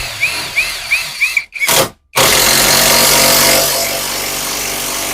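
An ELTOS AGU-20 BL300Hm 20 V cordless impact driver drives a 125 mm lag screw, starting with several short rattling bursts and then a brief pause before a loud sustained hammering whir, close up.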